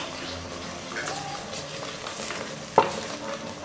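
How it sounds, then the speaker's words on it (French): Peanut paste sauce stirred in a pot with smoked fish for a Congolese dish, a steady soft scraping and bubbling texture with one sharper clack near the end. "Je mélange toujours, je ne veux pas que ça se boule en bas."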